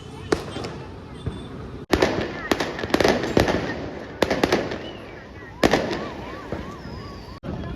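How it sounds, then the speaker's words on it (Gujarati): Rocket fireworks and firecrackers going off on a city street during Diwali celebrations in Surat, a series of sharp cracks and bangs, some whistling up, near and far, with people talking throughout. "શું રોકેટ નો અવાજ આવ્યો"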